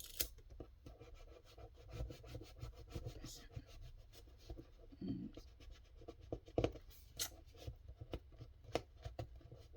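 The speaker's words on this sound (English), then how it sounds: "burnish it down pretty good so it gets a nice stick to it" Scotch tape being burnished down onto paper while making journal ephemera, a close, steady rubbing and scratching with irregular louder strokes and taps, no talking.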